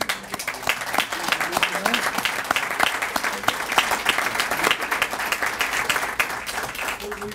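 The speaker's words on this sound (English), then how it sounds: "give them a round of applause" A crowd applauds steadily throughout, dense clapping with a few voices mixed in, loud and sustained for several seconds.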